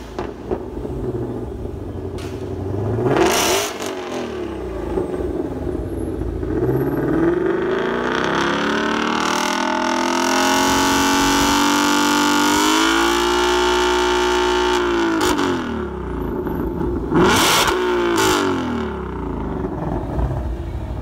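A 2020 Ford Shelby GT500 with a cross-plane engine revs loudly up close. Sharp throttle blips open and close the run, with a longer sustained climb and hold in the middle and no talking.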